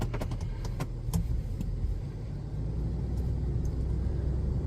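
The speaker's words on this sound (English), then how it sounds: "Gotta love the sound of these Duramax diesels." A low, steady Duramax diesel engine rumble from a 2024 Chevy 2500HD pickup drones throughout, with a few light clicks and taps near the start.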